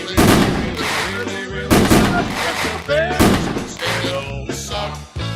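A fireworks sound effect plays during a live football watch-party stream, with repeated loud booming bursts and crackling tails recurring every second or so, filling the clip at close range.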